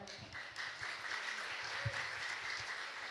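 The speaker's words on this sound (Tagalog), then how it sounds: "Sa mga taga Santiago, lakasan pa inyong palakpak." Applause from a church congregation in Santiago during a preaching service, a steady wash of many hands clapping at moderate loudness throughout, with no one speaking.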